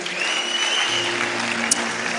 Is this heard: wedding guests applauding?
yes